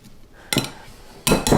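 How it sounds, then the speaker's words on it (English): A utensil mashes cooked potatoes in a metal pot, producing two clattering bursts of scraping and knocking against the pot, the second louder and longer, close up with no talk. "Oh, they're so easy to mash."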